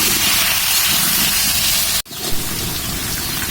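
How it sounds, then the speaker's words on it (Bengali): Potatoes fry in a pan while being stirred and give a dense, loud hiss like steady rain. A brief dip and a thud come midway, then the sizzle carries on. No talking. "আলুগুলো কিছুক্ষণ নাড়বো, নেড়ে ভেজে নেব।"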